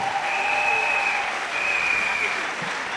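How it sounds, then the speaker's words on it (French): A church congregation claps as a clap offering during a Sunday service, a steady broadband wash of hands that fills the whole span at moderate level, with sustained tones or voices running through it. "Clap offering."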